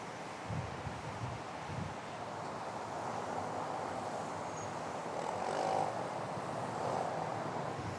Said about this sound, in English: this is a Delta connection operated by Endeavour Air, a CRJ 900 coming in from Des Moines